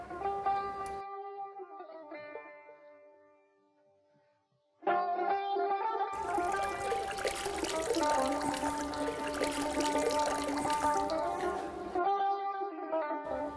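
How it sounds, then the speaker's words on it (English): Water pours steadily in a long continuous stream during candle making, starting and stopping a couple of times, with a faint musical tone underneath and no talking. "Pour some more."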